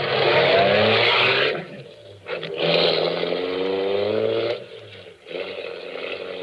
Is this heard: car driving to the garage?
yes